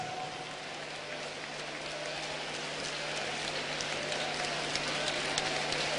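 A congregation claps hands steadily in a dense, even wash of sound over six seconds, rising slightly toward the end, with a low steady hum beneath.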